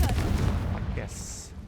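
The Confringo blasting spell goes off in the Hogwarts Legacy video game as a deep, rumbling blast that decays quickly, followed by a bright ringing tone while a voice is heard.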